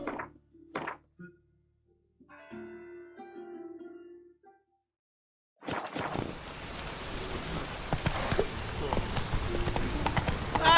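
Hoofbeats of a horse named Roach galloping in The Witcher 3, a steady, loud clip-clop that starts partway in after a quiet stretch of game speech and runs on to the end.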